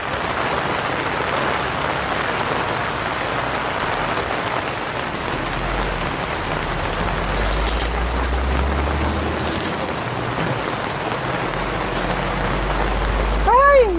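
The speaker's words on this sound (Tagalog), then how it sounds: "Nabutan ng ulan." Steady rain falls in a continuous hiss of drops on surfaces outdoors, loud and close throughout, with a brief sharper rattle near the end.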